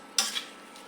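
Spices being stirred and fried in a pot of chicken biryani masala, salted and cooked down over a village stove; a brief close scrape and sizzle bursts near the start and then fades to a quiet hiss.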